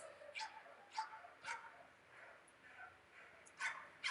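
A dog barks repeatedly in a steady rhythm, with roughly eight moderate barks spaced about half a second apart and a few closer together at the end, against quiet background noise.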